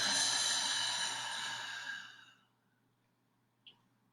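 A long, deep breath is pushed out through the mouth as a soft breathy whoosh. It fades over about two seconds into near silence, and a tiny click follows later.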